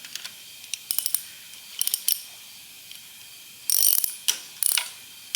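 A socket wrench ratchets on a bolt of a junkyard 351 Windsor engine during teardown, with several short bursts of quick metallic clicks, fairly close and clear against a quiet background.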